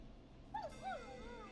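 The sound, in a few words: neighbor's dog barking in video game Killer Frequency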